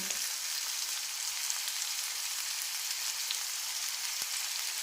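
Dal and spinach sizzle as they are sautéed in a pan with spices, a soft, steady frying hiss that runs continuously with a faint stir or tap near the end.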